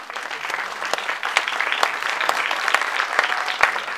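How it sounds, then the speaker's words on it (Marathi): Steady applause from an audience at the poster launch for a Marathi film, dense clapping that holds for about four seconds with a few sharper claps standing out near the end. "त्यामुळे टाळ्यांचा कडकडाट झाला पाहिजे"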